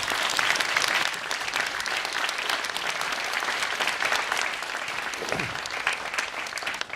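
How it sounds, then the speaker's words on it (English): An audience applauds at an artist talk, a dense steady clapping of a crowd sustained throughout at moderate level with no voices. "We should have a big applause for him."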